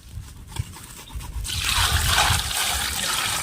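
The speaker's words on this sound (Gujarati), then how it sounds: "કટલામાં પાણી નાખી દે" Water pours into a cooking pot in a village kitchen, a steady rushing trickle that swells and holds loud and close after a quieter start with faint handling noises.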